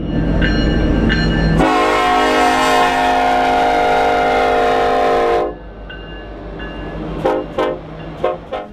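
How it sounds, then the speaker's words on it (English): A train passes close by with a loud sustained horn blast over a heavy rumble, followed by clanking wheels as the cars roll past. "experience the rumble of a passing train, up close and personal"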